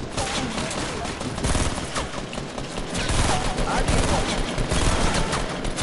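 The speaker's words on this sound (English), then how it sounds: "I sniped the guy." Dense, continuous gunfire during a Fortnite match where a player snipes an opponent, a busy wall of overlapping shots and battle noise with no clear gaps.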